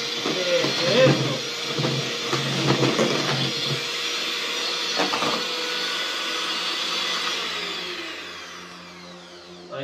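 Marquesote batter, a Salvadoran sponge cake mix, being beaten with an electric mixer, a steady loud whirring drone that runs continuously and eases off near the end, with people talking over it.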